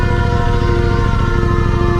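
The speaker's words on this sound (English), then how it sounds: "they don't hear this loud ass ambulance car" An ambulance siren in town wails loud and steady with dense harmonic tones, close by against traffic noise.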